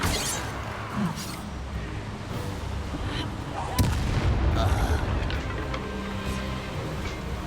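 Confringo blasting spell explosions in the Hogwarts Legacy video game, a dense roar of game combat with a sharper blast partway through, loud and close throughout.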